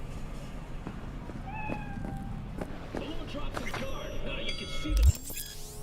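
A cat meows a few short, high times inside the Cyberpunk 2077 video game, set against a steady bed of in-game ambience and faint background voices.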